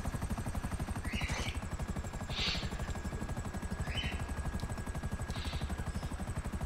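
A helicopter in the online mode of the game GTA V, its rotor beating in a steady fast thrum close by, with faint engine whine and a few brief higher sounds over it.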